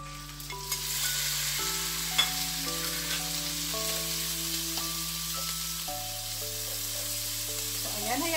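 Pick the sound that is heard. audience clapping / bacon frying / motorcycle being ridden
bacon frying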